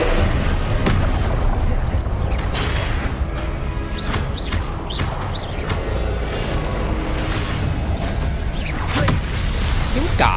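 Depulso spell cast in the video game Hogwarts Legacy: a dense, loud rumbling boom with crashing impacts and whooshing bursts, all layered over continuous game action noise.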